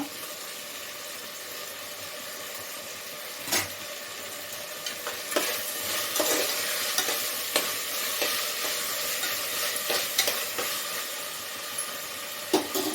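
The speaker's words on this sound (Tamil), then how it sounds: "தக்காளி வதங்கட்டும்" Tomatoes with a little salt sautéing in a pan while cooking goat leg curry, a steady bright sizzle and hiss throughout with occasional stirring clicks and scrapes, close and continuous.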